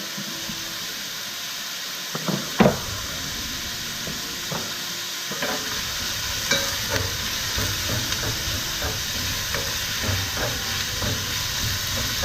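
Garlic frying in a pan gives a steady, close sizzling hiss, with a few soft knocks and clinks of a utensil scattered through it.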